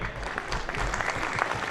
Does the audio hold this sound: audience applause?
yes